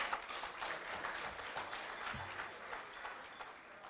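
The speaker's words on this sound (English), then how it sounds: "Let's give the professor another round of applause." Audience applauding for a professor at a 90th birthday celebration, a fairly quiet, continuous patter of clapping from the room with a low thump partway through.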